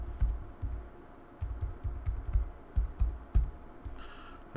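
Fingers type a password on a Mac keyboard, a close run of quick, uneven key clicks in bursts with short pauses, no talking.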